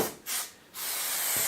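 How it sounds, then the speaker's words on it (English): An aerosol can sprays adhesive around the edges of a piece of felt: two quick hissing bursts, then a longer steady spray, close and fairly soft, with no talking. "give it a perimeter spray because you're going to pull it in and stick it on the back"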